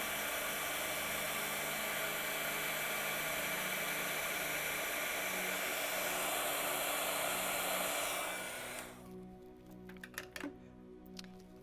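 A handheld heat tool blows steadily as it melts embossing powder on a card, a loud continuous whooshing hum that runs close up for about eight seconds before cutting off, leaving faint handling clicks.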